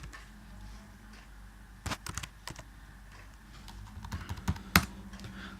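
Code typed on a computer keyboard in Android Studio: scattered, quiet key clicks in short uneven bursts, a few sharper taps near the end, against a low room hum.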